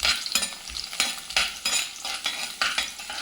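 Garlic sizzles in hot sesame oil for mango pickle while a spoon stirs it in regular strokes, each sweep bringing a burst of crackling, close and fairly loud.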